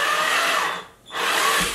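A power drill whirs steadily nearby, briefly stops, then spins up again with a high, buzzing motor tone.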